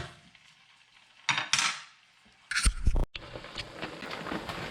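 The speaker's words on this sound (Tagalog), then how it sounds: "Ngayon, lagay na natin yung ating chicken broth. Hayaan natin kumulo." Chicken broth poured into a hot pan for pancit bihon canton guisado, giving a loud sizzling hiss in two bursts, then a steady bubbling simmer building toward a boil.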